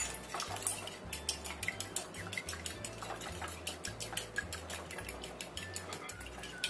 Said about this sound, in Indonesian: Kocok sampai tercampur rata.